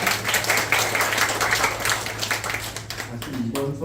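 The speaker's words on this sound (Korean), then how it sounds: "다시 한번 박수 부탁드립니다" Clapping from attendees at a local election review meeting with residents in Daegu's Buk-gu district, a continuous patter of hands with a voice rising near the end.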